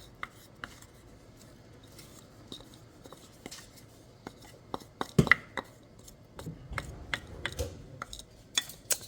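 Spoon scraping lentil soup ingredients and dry seasoning out of a bowl into a pot, a series of soft, irregular taps and scrapes, close and fairly quiet.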